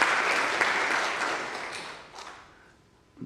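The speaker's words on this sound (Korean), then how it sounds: "하나님의 영광의 박수 함께 올리겠습니다." A church congregation claps together in a sustained burst of applause that fades out toward the end, steady and fairly close, with no speech over it.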